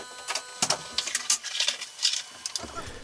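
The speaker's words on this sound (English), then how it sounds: "I then check the Z offset by moving the gantry down by writing G1Z0." The gantry of a JGAurora A5 3D printer moves down on its Z axis, giving a run of short stepper-motor whirs and buzzing chirps over about three seconds, close and moderately quiet.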